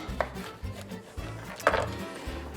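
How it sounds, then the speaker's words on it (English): Knife cutting two lemons in half on a board in a home kitchen, with a few soft thuds and knocks against the board at an irregular pace, close and quiet. "I'm gonna take these 2 lemons because they're my prettiest, and just cut those in half."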